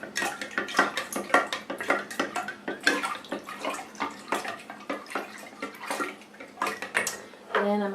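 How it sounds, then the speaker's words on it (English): A plastic spoon stirs a homemade fabric softener mixture in a container, sloshing and scraping in quick, close, uneven strokes throughout, with no one speaking. "I'm going to take a plastic spoon and just kind of stir this up to get it really well incorporated."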